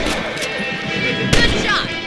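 A gunshot in the video game Red Dead Redemption, during a rabbit hunt, a single sharp report punching through a loud, busy game soundscape, with voices speaking.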